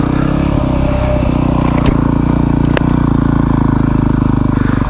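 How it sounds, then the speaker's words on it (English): A Yamaha WR250R dual-sport motorcycle fitted with an aftermarket exhaust rides along near Coogee Beach, a loud, steady engine drone with a throaty exhaust note and occasional wind clatter. "Now instantly on the bike you can hear the aftermarket exhaust."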